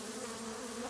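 Dense, steady swarm of agitated bees buzzing close and loud throughout, a continuous drone with no break, while venom is being extracted from the hive.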